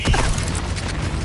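A Bombarda blasting spell from a Hogwarts video game: a loud, close burst at the start that breaks into mechanical clattering and rumbling debris, fading slightly over about a second.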